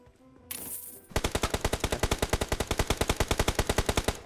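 Rapid automatic gunfire in a close-quarters combat video game, a long steady burst of loud evenly spaced shots following a brief rustle.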